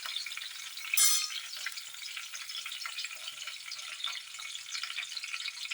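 Chopped yam (chena) fries in coconut oil with curry leaves, giving a steady, dense sizzle close by, with a short louder burst of crackling near the start and no talking.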